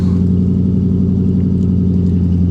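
A car engine idles high at about 1250 RPM, a steady, loud, close droning hum with an even low throb and no clear rev rise.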